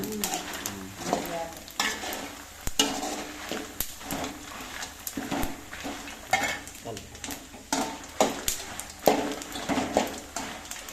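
Coriander seeds and dried red chillies dry-roast in a pan, heard as a quiet, busy rattle of stirring and scraping with irregular clicks throughout.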